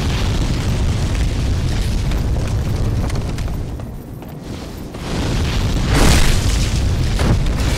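A dragon in Demon's Souls blasts fire in a continuous roaring rush, loud and close, dipping briefly before surging again with a heavier burst.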